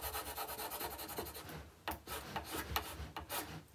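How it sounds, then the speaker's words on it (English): Tape edge being burnished down by firm rubbing for a geode resin art project, a close, quiet scraping rasp in repeated short strokes with irregular rhythm. "I'm rubbing right along that edge there. And I'm just burnishing that down, warming it up"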